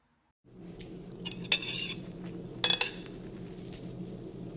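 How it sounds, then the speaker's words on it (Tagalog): Metal cutlery clinks and scrapes against a plate, a few sharp chinks over a steady low background hum. "Tunog ng mga kutsara at tinidor na sumasahid sa plato"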